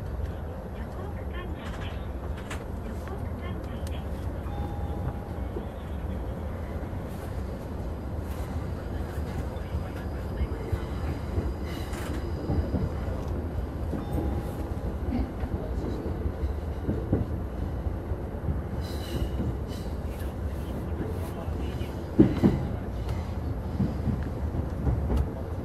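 A Yamanote Line train rumbles steadily along newly switched rails between Tamachi and Shinagawa, with a low continuous roar, scattered clacks and rattles, and a brief louder jolt near the end.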